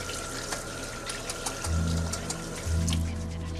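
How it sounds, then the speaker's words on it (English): Running water from a sink tap splashes steadily while hands are washed with soap, a low hum beneath and soft movement noises close by. "Wash your hands, please."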